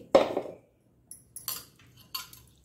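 A mixer grinder jar is handled in a home kitchen while making cucumber masala dosa, giving a few light, close clinks and knocks spread over a couple of seconds, with quiet gaps between them.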